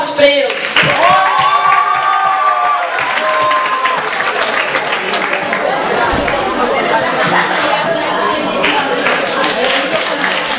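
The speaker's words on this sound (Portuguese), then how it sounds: "Uma salva de palmas para ele." An audience applauds at a school event on sexuality, with loud, sustained clapping, scattered cheers and a murmur of chatter that continues throughout.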